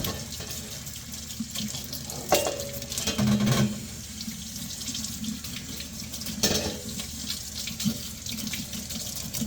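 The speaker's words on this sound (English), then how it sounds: "Making sure we get thoroughly rinsed." Running water from a tap splashes steadily over cymbals being rinsed in a sink, a continuous close hiss with brief louder splashes and clinks as the metal is moved under the stream.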